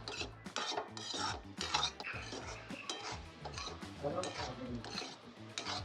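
Prawns sautéing in a pan while being stirred, with constant busy scraping and clattering of a utensil against metal over a soft sizzle, close and continuous with no talking.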